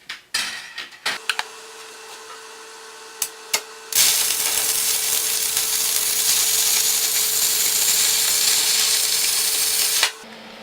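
Stick welding with a 3/32 rod in a workshop: a few clanks and taps, then a loud, steady crackling hiss of the arc that runs for about six seconds before cutting off.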